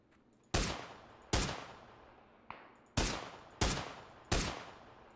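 Six sharp gunshots crack out in PUBG, loud and close, each with a decaying echo tail, spaced irregularly about a second apart with one fainter, more distant shot among them.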